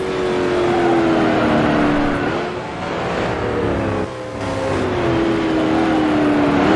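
A 1966 Can-Am race car engine in the Grand Prix Legends game at Mont Tremblant, loud and close, revving high then dropping as it downshifts to second gear, pitch falling and climbing again with no talk.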